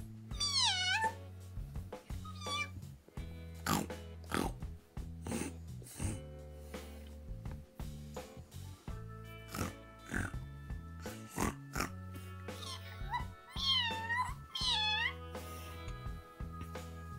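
Repeated meows, several of them, are heard over an ongoing musical beat; some sound like a voice imitating a cat.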